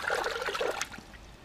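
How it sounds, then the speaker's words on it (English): Water trickling and splashing briefly as a silver ore sample is rinsed, close and fairly quiet, fading out after about a second. "Give it a rinse."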